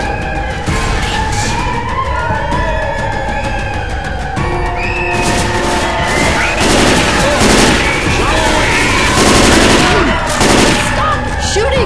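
Dense gunfire in the co-op zombie shooter Left 4 Dead 2, with loud, continuous overlapping automatic bursts and heavy impacts packed over a constant roar of game action.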